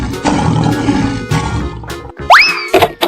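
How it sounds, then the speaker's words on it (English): Cartoon lion roar in an animated animal video, a loud rough growl among bouncy effects and a rising boing-like tone, short bursts over about three seconds. "Lion."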